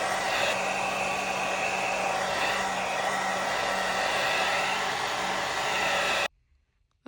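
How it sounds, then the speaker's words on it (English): A blow dryer on its cold setting runs steadily and loudly while drying natural hair during a lace frontal wig install, a continuous airy roar that cuts off abruptly near the end. "Now you want to get your blow dryer set on cold and just dry."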